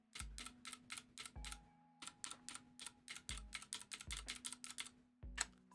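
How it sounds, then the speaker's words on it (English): A computer keyboard is typed on in quick, uneven bursts of crisp clicks at close range, each key giving a slightly different pitch, with short pauses between runs and no voices. "if you listen to my keyboard, like I'm gonna hit different letters"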